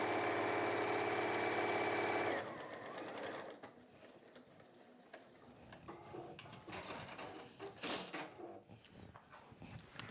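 A sewing machine chain-piecing fabric for a peg bag runs in a fast, loud mechanical whirr for a couple of seconds, then gives way to quieter clicks and handling noises up close.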